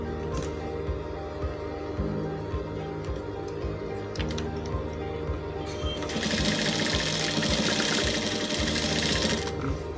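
A sewing machine stitching a half-inch turned-in neck hem on a vintage shirt, a steady close mechanical whir with a rapid needle clatter that grows louder and hissier toward the end, no talking.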